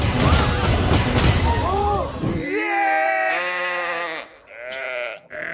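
Sheep bleating in a movie trailer, a couple of wavering, drawn-out animal cries after a loud, busy stretch of voices and effects.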